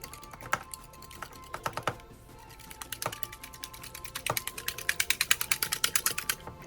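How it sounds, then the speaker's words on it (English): Eggs whisked with salt and pepper in a bowl, heard as rapid rhythmic clicking taps of a whisk against the bowl, sparse at first then speeding into a dense steady run, close and fairly quiet with no talking. "Now I'm going to add a little bit of salt and pepper to my eggs and give this a good whisk."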